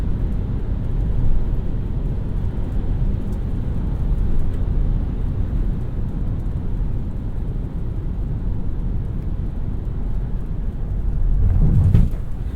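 A 2022 Ford Maverick hybrid pickup accelerates, heard from inside as a low, steady engine and road rumble that swells slightly near the end, with no talk.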